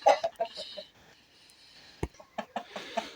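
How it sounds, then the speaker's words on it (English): Buff Leghorn chickens clucking in short bursts near the microphone in an allotment coop, with a quieter stretch in the middle before more clucks and scratchy noises. "These are the buff leghorns to be kept."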